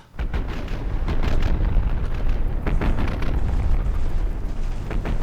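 Ammunition cooking off aboard a battleship in the naval combat game Big Iron, a loud sustained roar of overlapping booms and crackling bursts, with several sharper blasts punching through.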